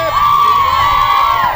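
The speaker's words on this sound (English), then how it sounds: "all the fans are cheering" Fans cheering at a high school state tournament softball game, a loud sustained crowd roar with a prominent high whoop carrying over it, close and continuous.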